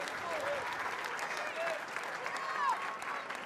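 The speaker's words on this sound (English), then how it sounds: "Crowd appreciates the defensive hustle of Alana Janchevsky" Stadium crowd at a women's A-League football match between Melbourne Victory and Perth Glory applauding steadily, a broad, even wash of clapping heard from within the stands.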